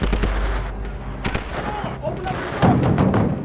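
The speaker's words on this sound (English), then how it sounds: "Repeated gunfire echoed through Washington, D.C. police headquarters." Rapid bursts of gunfire crack repeatedly, echoing inside a police headquarters building in Washington, D.C., with a heavier burst near the end.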